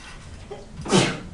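A single short sneeze, fairly close, rising briefly out of a quiet room background.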